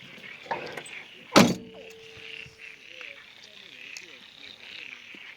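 A door pulled shut at a campsite lands as one sharp loud thud, with a lighter knock just before it. Quiet outdoor ambience and soft voices continue after.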